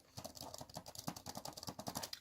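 Rapid, steady typing on the keyboard of an IBM ThinkPad 2621 i-Series laptop, a dense run of light plastic key clicks, fairly quiet and close, with no voices.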